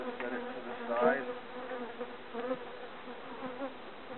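Honeybees buzzing steadily close by around an open hive during an inspection, a soft droning hum with a few louder passes as individual insects fly near.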